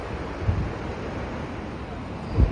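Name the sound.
ocean waves at the beach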